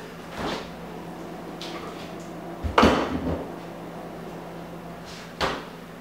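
A home freezer door is pulled open in a kitchen to take out chilled almond butter cups, with a sharp latch click and seal pop near the middle and a softer thud as it shuts later, close and clear over quiet room tone.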